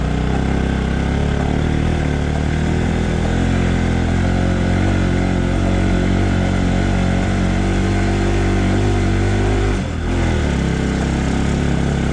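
A motorcycle engine runs loud and steady throughout a ride on the way to Tindhare waterfall, its front wheel feeling a little jammed. The rumble is close and continuous with a brief dip near the end, and no one talks.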